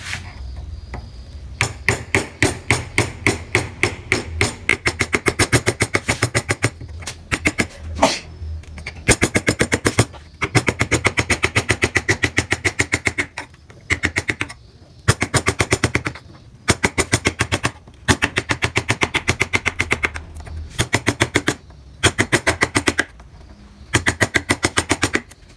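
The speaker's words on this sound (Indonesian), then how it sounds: "yang pertama kalian gunakan pahat penguku untuk memberi dasaran mahat" A wooden mallet taps a gouge chisel into wood during beginner carving, making fast steady runs of sharp knocks in bursts broken by short pauses across the whole stretch, close and loud, with no talking.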